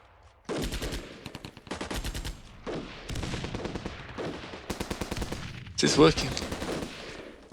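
Rapid bursts of automatic gunfire and grenade blasts in the war strategy game Armored Brigade II, dense rattling volleys repeating in loud waves with heavier booms, while someone talks over them.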